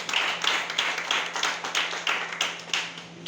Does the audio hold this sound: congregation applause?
yes